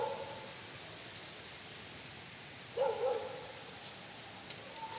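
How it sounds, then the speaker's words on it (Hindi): On a quiet, cold, rainy day, a faint hiss of falling raindrops runs steadily while a dog gives a single short bark burst partway through, distant and soft. "सिर्फ या तो कुत्ते के भौंकने की आवाज़ आ रही है या फिर बारिश गिरने की बूंदों की आवाज़ आ रही है"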